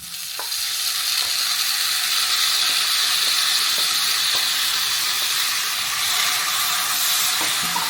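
Chopped tomatoes dropped into onions frying in a pan for ridge gourd curry, a steady loud sizzle and hiss with faint stirring scrapes, close and continuous without speech.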